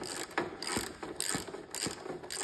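A ratchet wrench clicks in quick, steady bursts while tightening a spark plug on a twin-cylinder riding lawnmower engine, close and fairly loud with no talking.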